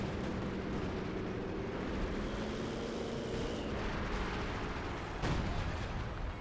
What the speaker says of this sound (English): Artillery running into the Soviet base.